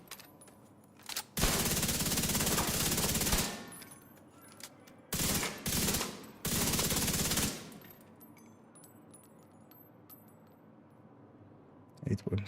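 Video game automatic gunfire in several long sustained bursts, loud and close, separated by quieter stretches with faint clinks and a final short burst near the end.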